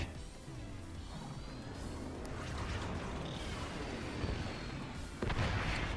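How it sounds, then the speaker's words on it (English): Mortar shells landing in the strategy game Forts, a continuous rumble of distant thuds and impacts with mechanical clatter, ending in a louder hit near the close. "The mortars are landing."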